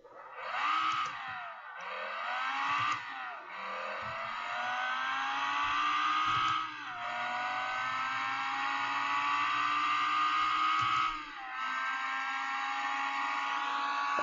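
Manual, high-power naturally aspirated car in BeamNG revving hard through several gear changes, engine pitch climbing, dropping briefly at each shift and climbing again, loud and continuous without talk.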